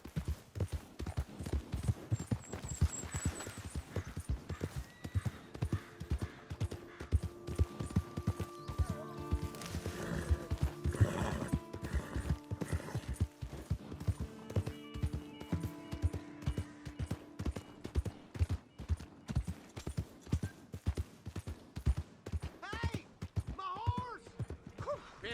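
A horse gallops in Red Dead Redemption 2, with rhythmic hoofbeats thudding steadily for the whole stretch under game music and occasional voices, plus a brief whinny-like tone near the end.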